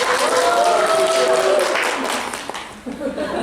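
A group claps during a staff introduction at a company construction site, a dense burst of applause that thins toward the end, with voices over it.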